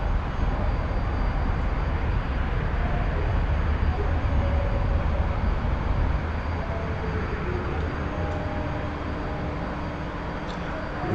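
A T-45 jet in the DCS flight simulator roars steadily during takeoff, a loud, continuous engine rumble and whine that holds for several seconds and eases slightly toward the end.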